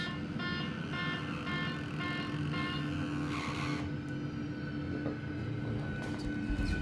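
A simulated aircraft engine spools up toward takeoff power, a steady roaring drone with a tonal whine, accompanied early on by a few repeated warning beeps that stop partway through.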